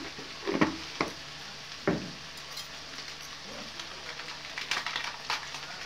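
Cumin, coriander and turmeric masala frying in hot oil for a meat pitha, giving a faint, low sizzle with a few louder stirring clatters near the start and scattered bursts later.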